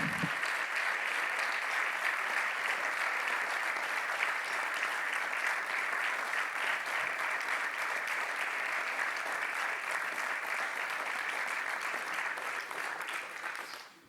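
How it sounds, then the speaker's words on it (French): An audience gives warm applause after a round-table discussion at a business event. The clapping is steady and dense from a full room, holds for about twelve seconds, then tapers off. "Je vous propose qu'on applaudisse chaleureusement Pierre-Yves Antras, Romain Roy et Alexandre"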